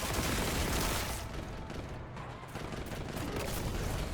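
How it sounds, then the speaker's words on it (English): Crack grenade detonating in a Warhammer 40k video game, a dense burst of explosive gunfire-like cracks and booms that stays loud and continuous throughout, with no voices. "Oh, that's a crack grenade."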